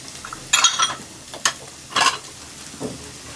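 Tomato and fish fry in a pan while a utensil stirs, giving short bursts of scraping sizzle at irregular intervals, close and moderately loud, between quieter stretches.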